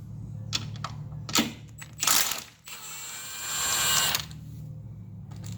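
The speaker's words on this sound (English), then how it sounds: "I got my drill on the out." A power drill with a 14 mm socket backs out a bolt on a Kawasaki Ninja motorcycle, whirring in two short bursts, the second longer and steadier, close by in a quiet garage-like space.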